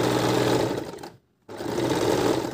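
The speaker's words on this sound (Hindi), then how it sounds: "अब हम इसको पूरी सिल लेंगे।" Sewing machine stitching a sleeve, a steady close whirring run that stops for a moment and then starts again at the same pace.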